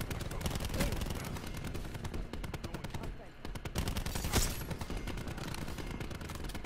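Shotgun fire in a first-person shooter game, with loud, rapid blasts coming in dense bursts and a brief lull midway.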